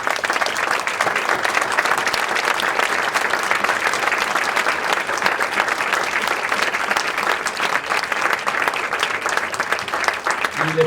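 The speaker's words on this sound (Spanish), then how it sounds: "brindémosles un aplauso al público" A large audience applauds steadily at a 2020 course session, with dense, even clapping that holds at full strength for about eleven seconds without a break.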